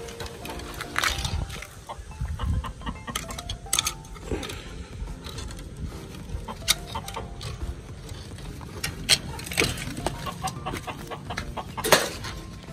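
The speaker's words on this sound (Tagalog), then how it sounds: "Update sa amin, sa ating darag chicken." Darag chickens cluck and call at moderate distance in a farmyard, with scattered short bursts and mechanical rattles mixed over a steady background murmur.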